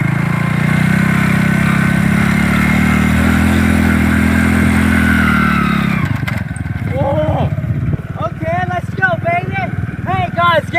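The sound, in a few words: Hero Honda motorcycle engine running after kick start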